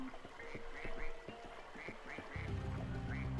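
Repeated quacking from a duck in Spyro 2: Ripto's Rage Reignited, a string of short nasal calls with croaky, frog-like tones, heard over game music and ambience.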